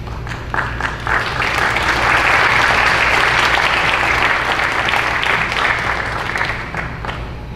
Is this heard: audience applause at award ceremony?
yes